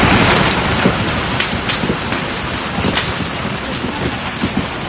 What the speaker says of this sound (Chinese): 义乌遭大冰雹猛砸，大量车辆砸烂